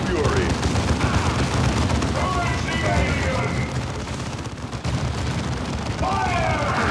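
Rapid gunfire and explosions in the video game Warhammer 40k Dawn of War 2, a dense continuous barrage of shots heard loud and close throughout, mixed with game sound effects and voices.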